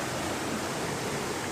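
A waterfall hidden back among dark rock faces produces a steady, dense rushing roar of falling water, constant and fairly close with no other sounds.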